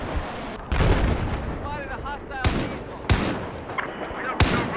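Bursts of gunfire from a newly acquired weapon in the video game Battlefield 4 during a firefight with a jeep, several sharp loud shots standing out over dense battle noise, with talk heard in between.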